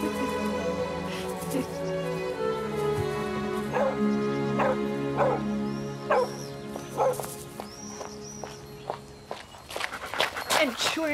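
A dog barks repeatedly in short sharp bursts, with yips and whimpers, close by and fairly loud, amid footsteps and a steady background hum.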